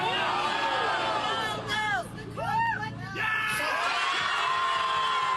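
A crowd of union supporters outside Toronto Pearson Airport roars during a labour protest, with loud sustained shouting, rising yells and whoops blending into a continuous dense din.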